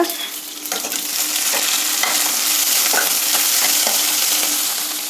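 Finely chopped ginger, green chili and cumin seeds fry in hot oil in a pan, giving a steady, loud, close sizzle broken by a few sharp spoon taps and scrapes as they are stirred.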